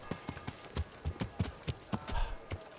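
Horse hooves clip-clopping at a walking pace in the medieval video game Kingdom Come: Deliverance, a series of close, distinct thuds in an uneven rhythm, about a dozen steps over a few seconds.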